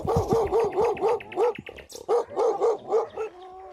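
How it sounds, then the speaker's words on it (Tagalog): Three angry dogs bark at people during a village fiesta: close, loud, rapid volleys of barks in rhythmic bursts, with a brief yelp midway and no talk over them. "namin ang 3 aso na galit habang tinatahulan kami"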